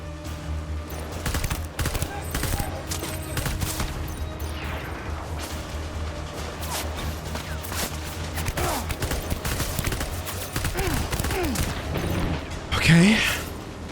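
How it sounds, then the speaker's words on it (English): Non-lethal assault rifle firing in Death Stranding during a chaotic firefight, dense rapid bursts and volleys of gunfire with mechanical clatter and crashes, loud and continuous, with someone talking over it. "We're gonna go for the non-lethal assault rifle."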